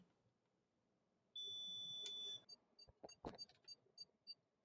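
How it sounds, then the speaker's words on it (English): An 80286 computer motherboard, powered up after decades unused, sounds a long electronic tone once, then a series of short, sharp beep codes in quick succession amid some clicking and handling noise. "So I just heard 8 beeps, I think, after a little initial stuff."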